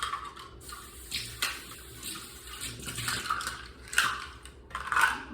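Tap water runs and splashes while a measuring cup is rinsed out at a kitchen sink, a steady close gurgling stream with a few louder sloshes near the end.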